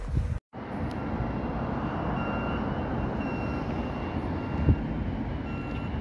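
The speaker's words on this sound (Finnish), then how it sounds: "täällä noi äänimerkit liikennevaloissa on just yhtä paha kuulosia kuin Kouvolossakin" A pedestrian signal at a traffic-light crossing in Lahti, Finland repeats faint, thin electronic beeps under a loud, steady wash of street and traffic noise, heard outdoors with no talking.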